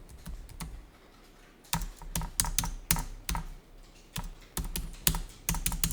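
Rapid typing on a computer keyboard, with irregular bursts of sharp, close keystrokes and short pauses between runs of keys, no voices.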